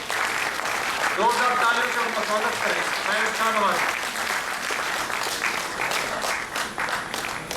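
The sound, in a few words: audience applause welcoming a speaker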